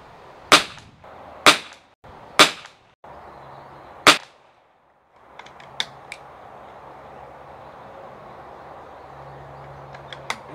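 Gunshots from CCI ammunition: four loud, sharp cracks at uneven intervals, then a run of quieter, shorter pops over a steady background hum.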